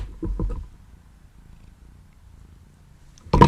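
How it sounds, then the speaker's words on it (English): A soft, low cat purr rumbles steadily close by, with a brief louder rustle at the start and a sharp noise at the very end. "He's purring."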